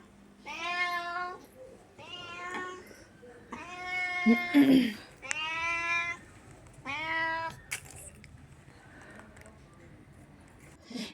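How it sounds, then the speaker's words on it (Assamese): A pet cat gives a series of loud, drawn-out meows, five or so clear calls with short pauses between them, close by, with a brief rustle in the middle and quiet after. "এইজনী আকৌ আমাৰ বিস্কুট খোৱা মেকুৰীজনী, মোক দেখিবহে লাগে খালি চিঞৰা চুৰু।"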